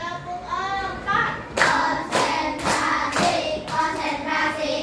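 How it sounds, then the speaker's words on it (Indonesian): Children in a classroom clap along in a counting game, starting with sung voices and then a run of four loud, evenly spaced bursts of group clapping about a second apart. "Tepuk satu, tepuk dua, tepuk tiga"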